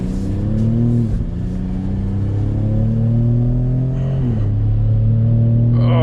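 A 2019 Ford Raptor pickup launches hard from a stop, its engine roaring loud and close as it climbs through the revs, with shifts breaking the rising drone.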